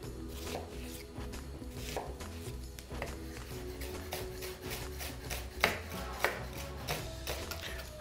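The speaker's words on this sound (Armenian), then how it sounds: "Փոքրիկ գլուխ սոխը մանր կտրատում և տապակում ենք" A small onion is chopped finely with a knife on a board, a steady run of quick, close taps and soft scraping without any talk.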